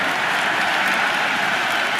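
A stadium crowd in the Cricket 26 video game cheers and applauds in a dense, continuous roar during an India versus Australia match, loud and unbroken with no voices standing out.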